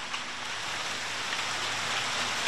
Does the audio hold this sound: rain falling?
yes